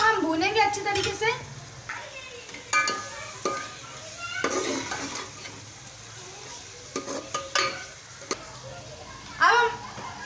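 Meat for tinday gosht fries in a pot while being stirred, steady sizzling broken by scraping spoon strokes and clanks against the pot, with a voice talking intermittently.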